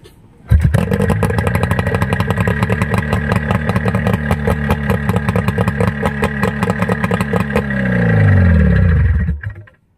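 A Yamaha 15 hp outboard engine starts abruptly and runs loud and rough, with a rapid uneven clattering beat, then surges briefly before cutting off near the end.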